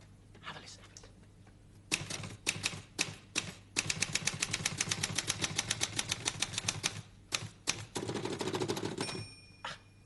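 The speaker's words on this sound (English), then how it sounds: "have a listen to the different sounds a typewriter makes" A typewriter is typed on with fresh paper loaded, bursts of rapid sharp key strikes in quick runs separated by pauses and isolated clacks, close and crisp, ending with a faint bell-like ring.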